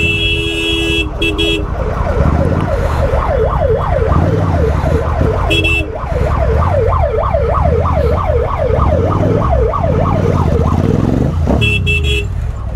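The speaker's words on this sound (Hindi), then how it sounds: "एम्बुलेंस एम्बुलेंस, थोड़ी सी एम्बुलेंस निकली गई, एम्बुलेंस" An ambulance siren wails through traffic on an NCR road, a rising-and-falling yelp repeating steadily and loudly with engine and road noise beneath, while horn-like blasts sound briefly at the start and end.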